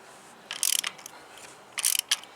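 Ratchet clicks on a magnetic spark plug socket loosening a spark plug in a Toyota Aygo, two short bursts of rapid clicking with a final single click, close and fairly quiet.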